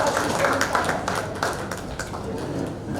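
An audience applauds Sandeep Pathak at an on-stage event with media present. The clapping is steady and fairly close, with sharp overlapping claps, and a voice speaks over part of it.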